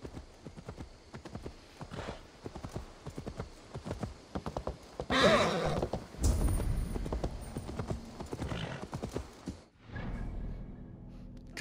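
Horse hooves clip-clop at a steady trotting rhythm in Assassin's Creed Valhalla, fairly close and continuous, with a brief whoosh partway through, then the hoofbeats fade into a low rumble near the end.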